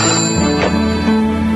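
Ringing comes through a telephone earpiece after a call is placed, in a 1980s Hong Kong advertisement: a steady electronic ring tone, loud and continuous, with no voices over it.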